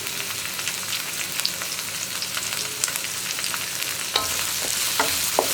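Sweet corn and capsicum stir-frying in a pan for fried rice, a steady close sizzle with scattered crackles and a few sharper scrapes of a spoon against the pan toward the end.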